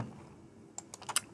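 Keys on a computer keyboard are tapped in a short burst of several quick, light clicks near the end, fairly faint against a quiet room.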